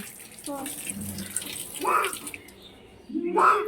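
Water runs from a tap as hands and feet are washed, a close splashing gush in short bursts with pauses between, and voices talk in the background.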